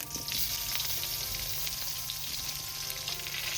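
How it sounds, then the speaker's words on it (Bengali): Winter beans and new potatoes fry in oil tempered with nigella seeds, a continuous close hiss and crackle of sizzling with faint stirring, holding steady for a few seconds without speech. "এবার আমি এর মধ্যে দিয়ে দেবো শীতের সবজি শিম আর নতুন আলু। এটা আমি ফোড়নের সঙ্গেই একবারে ভেজে নেব।"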